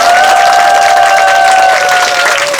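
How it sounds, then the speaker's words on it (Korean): An audience applauds at a book concert for a poet: sustained, dense clapping from a crowd, loud and steady throughout, with a faint tonal hum running beneath. "정호승 시인님께 다시 한번 박수 부탁드립니다"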